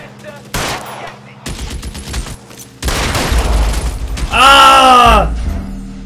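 Bursts of gunfire from an L.A. Noire shootout, with scattered shots giving way to dense, loud volleys and a final sustained burst, over a low game soundtrack rumble.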